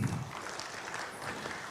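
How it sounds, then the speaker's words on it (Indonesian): An audience breaks into brief applause for the Indonesian national police, a short burst of dense clapping that holds steady for under two seconds. "Tepuk tangan untuk Polri."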